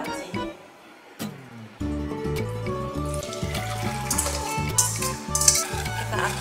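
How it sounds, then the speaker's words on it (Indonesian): A spoon stirs choux pastry cream as it thickens in a pot on the stove, giving soft scraping and wet stirring sounds under steady background music with no speech. "Kita aduk terus sampai dia benar-benar mengental."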